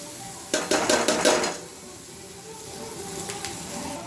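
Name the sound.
fried paneer stirred into sizzling butter masala gravy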